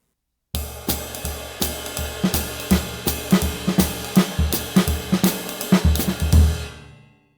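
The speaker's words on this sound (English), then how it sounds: "using the weight of my leg to make a choked sound" Tight, choked hi-hat played up on the toe with leg weight pressing the cymbals shut, a steady stream of short crisp chicks alongside a drum groove with kick and snare, loud and close with no talking.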